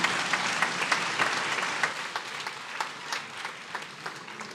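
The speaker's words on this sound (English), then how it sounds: "Another round of applause," Audience applause at the Lake Chad Basin Governors' Forum in Maiduguri, a sustained round of clapping from a crowd with distinct individual claps standing out, gradually tapering off.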